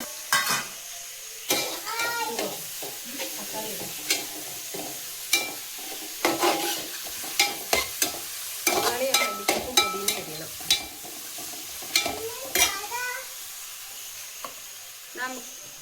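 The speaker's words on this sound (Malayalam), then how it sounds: "എണ്ണ നന്നായിട്ട് ചൂടായിട്ടുണ്ട് അതിലേക്ക് സവാള ചേർത്ത് കൊടുക്കുന്നുണ്ട്" Sliced onions frying in hot oil in a pan for Kerala-style kappa biryani, with a steady sizzle and frequent clinks and scrapes of a spoon stirring them, close and fairly loud.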